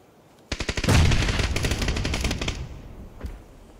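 Rapid automatic gunfire bursts loudly in a shooter video game firefight, a dense rattling volley lasting about two seconds, followed after a short pause by a single distant shot.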